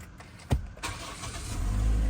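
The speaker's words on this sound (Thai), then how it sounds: "เหยียบเบรกได้เลยนะครับ แล้วก็กดสตาร์ท" White 2019 Toyota Altis 1.6 G automatic sedan push-button started with the brake pressed, a sharp click followed by the starter cranking and the engine catching into a rising, steady idle, close and moderately loud.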